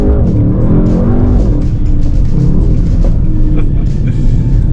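Mercedes-AMG GT 63 S sports car driving, its loud engine roaring steadily up through the gears with rising and falling tones, close and continuous throughout.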